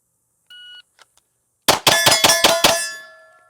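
A shot timer gives a short electronic start beep, followed about a second later by six sharp, loud pistol shots in quick succession, each ringing out briefly, during a red dot versus iron sights shooting drill.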